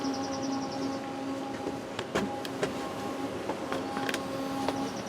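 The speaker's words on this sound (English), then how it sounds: "It sounds like a horn going off." A distant horn sounding outdoors behind a back step, steady tones drifting in and out over scattered clicks and knocks from nearby activity, fairly faint and continuous.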